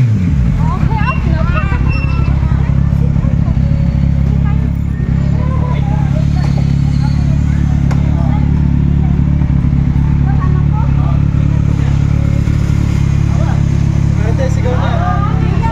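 Motorcycle engine idling and revving close by on a busy street, a steady low rumble running throughout with crowd chatter and voices over it.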